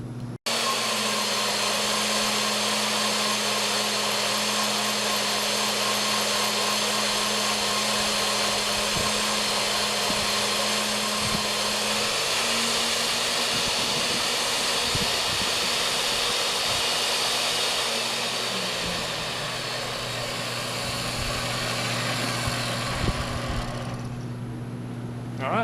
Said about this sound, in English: I got a 1-inch hole drill for the bit that we're gonna shoot a hole through the bucket